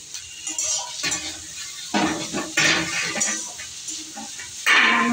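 Chopped onion and garlic stir-fry in a spoonful of soybean oil, with a soft sizzle broken by scraping spatula strokes and clinks against the pan, close and moderately loud, no voices.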